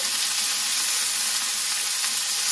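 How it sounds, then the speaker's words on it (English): Meat searing in a hot pan, a loud, dense, unbroken hiss and sizzle up close with no talking. "we're going to sear this on all sides"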